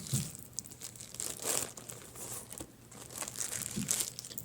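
A plastic bag crinkles and rustles while a renewed iPhone SE 2nd generation is unboxed, a few close, uneven bursts of crackling handling with no talking.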